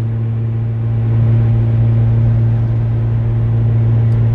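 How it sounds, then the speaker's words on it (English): A 1994 Acura Integra LS cruising, heard from inside as a steady low engine hum and road rumble with a constant tonal drone, rising slightly after the first second. "Riding around in the old Integra."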